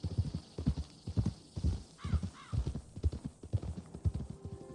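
Horse hooves clip-clop steadily in Red Dead Redemption 2 as a herd is moved along a ridge toward auction, a rhythmic close trot with a brief whinny partway through.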